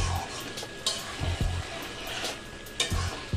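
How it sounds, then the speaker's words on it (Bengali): Goat meat with spices being sautéed in a pan, a continuous close sizzle broken by several scraping stirs of the spoon against the pan. "এইভাবে খুব ভালো করে মাংসটাকে কষিয়ে নিতে হবে"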